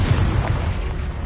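A Confringo explosion spell cast in the video game Hogwarts Legacy, a loud, low booming blast that rumbles steadily for about a second with no talk over it.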